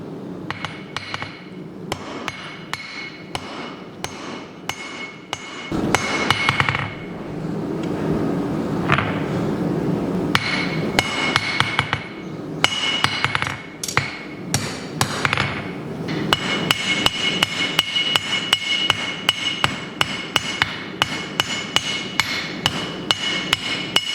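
Blacksmith's hammer strikes half-inch mild steel in a steady run of sharp, ringing blows while forging a tool, with brief pauses between bursts.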